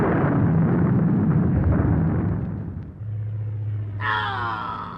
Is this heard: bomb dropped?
yes